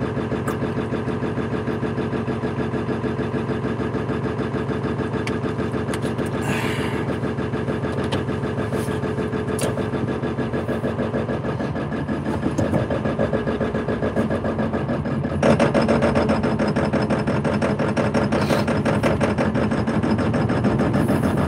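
A diesel engine runs in cold weather, settling into a loud, steady idle with a constant low rumble. The note rises slightly partway through and again later, without any talk over it.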